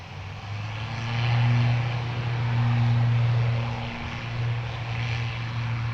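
Steady propeller drone of an eight-year-old ATR turboprop airliner at Dublin Airport, its engine tone swelling and holding loud and near before easing slightly, with no voices.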